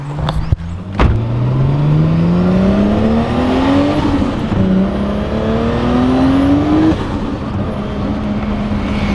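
A 600HP Nissan Skyline R34 GT-T engine pulls hard in second gear, its loud rising drone climbing steadily in pitch with a brief shift-like dip, heard close and continuous from inside the car.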